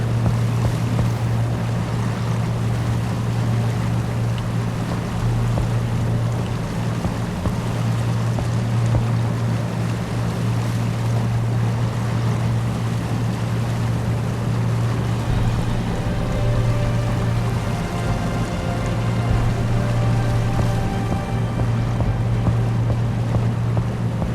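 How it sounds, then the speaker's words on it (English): A ship's engine running in the Seafarer ship sim video game: a constant low droning hum with a steady tonal throb under wind and water wash, unbroken and fairly loud throughout. "something's wrong with the engine"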